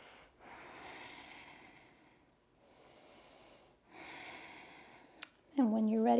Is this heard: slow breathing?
yes